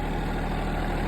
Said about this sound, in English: This thing, yeah, it's a Korean tractor.